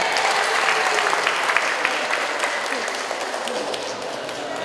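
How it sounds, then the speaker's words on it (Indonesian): Audience applause at a seminar session, loud dense clapping from a room full of participants, sustained and close with a faint murmur of voices mixed in. "tepuk tangan"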